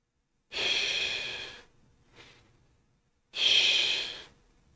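Two long, deliberate breaths, in and out, separated by a faint short breath, taken as part of a Castaneda-style recapitulation breathing exercise; close, steady airy rushes with quiet gaps and no talk.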